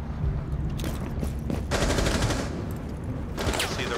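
Gunfire tears through walls in Rainbow Six Siege, bursts of rapid automatic shots in several clusters over steady game ambience, fairly loud and close with no talking.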